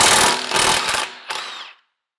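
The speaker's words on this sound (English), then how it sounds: "So now we can just loosen the rest of the bolts." Lug bolts being loosened on an Audi S4 wheel, heard as a close, loud burst of rattling mechanical noise, a brief pause, then a shorter second burst that cuts off abruptly.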